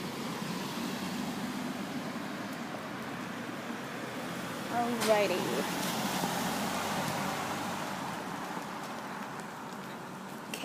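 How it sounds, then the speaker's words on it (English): Road traffic streams past a house in a steady broadband wash, with one vehicle swelling a little louder midway. A person speaks briefly, and the sound stays fairly faint and diffuse throughout. "Pausing to let traffic through."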